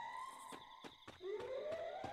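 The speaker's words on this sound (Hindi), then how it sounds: "सायरन मच गए अब।" Sirens wail in the video game Free Fire, a faint rising and falling electronic tone with a few soft thumps underneath.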